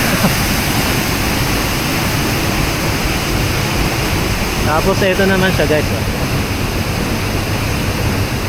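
Water flows steadily at a river swimming spot, a constant, loud rushing that fills the scene, while a person talks briefly partway through.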